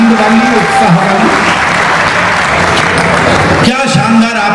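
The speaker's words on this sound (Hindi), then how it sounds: "तालियां बजा दीजिए थोड़ी सी आनंद वाली, उत्साह वाली" Audience applause at a Hindi kavi sammelan poetry gathering in Bhilai, loud dense clapping filling the hall throughout, with a voice speaking over it near the end.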